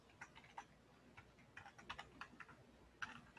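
Soft, quiet clicking of keys on a computer keyboard in an uneven patter of taps and short bursts, with no voices.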